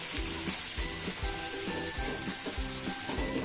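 Onions, green garlic and tomato sauté in a pan, a faint steady sizzle with soft rhythmic stirring scrapes repeating about every half second.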